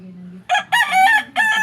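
A rooster crows nearby in a loud, ragged burst of several harsh notes, preceded by a low murmur.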